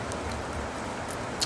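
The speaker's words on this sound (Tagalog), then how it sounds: "Lakas na ulan." Steady, dense rain hisses continuously across the whole stretch, a broad even wash of drops with no talking over it.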